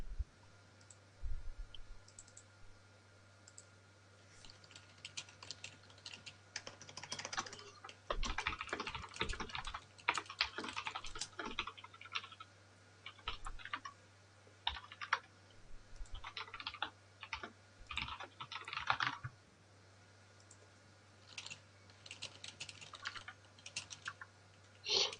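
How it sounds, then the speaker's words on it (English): Quiet, irregular clatter of fingers typing on a computer keyboard during a StarCraft coaching session, bursts of keystrokes separated by short pauses under a faint steady hum, no talking. "What are you typing?"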